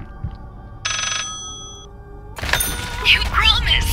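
Telephone ringing in the horror video game Layers of Fear, a single bright ring burst after a thunk, followed by someone talking over game sounds.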